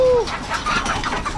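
A chicken clucking close by in a brief burst, short squawky calls over outdoor background noise.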